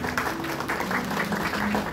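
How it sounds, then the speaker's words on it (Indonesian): A church congregation claps and applauds during a sermon, a steady, moderately loud patter of many hands lasting about two seconds. "tepuk tangan yang meriah buat Tuhan"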